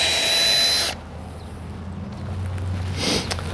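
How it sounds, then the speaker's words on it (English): A power drill fitted with an 11/64 bit bores at an angle into tree bark, a loud steady whir for about a second, then quieter working noise and a brief second burst of drilling near the end. "drill down at a 45 degree angle into the bark, and then about a half inch past that."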